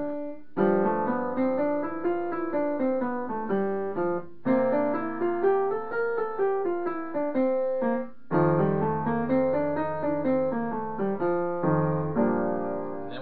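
Bebop scale lines outlined over dominant seventh chords through the bridge of Bb rhythm changes, played on piano in three long up-and-down runs with brief pauses between, steady and close with no talking.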